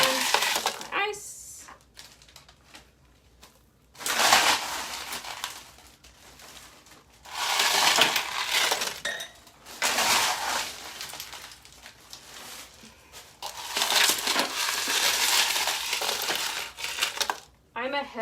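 Ice from 20-pound bags is piled onto fabric for ice dyeing, making repeated loud bursts of clattering, crunching cubes with short quieter gaps between the pours.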